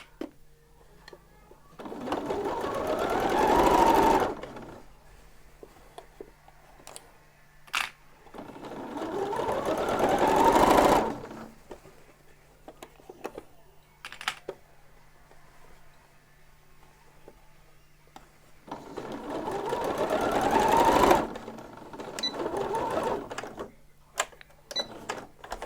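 Sewing machine stitching the side seams of a lined bodice, three loud close runs of whirring stitching separated by quieter pauses with small handling clicks.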